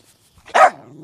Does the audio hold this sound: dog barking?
yes